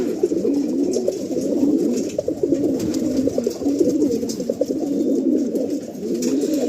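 Pigeons at an Andhra pigeon loft in Barrackpore coo steadily and close by, with overlapping soft, throaty calls running continuously throughout.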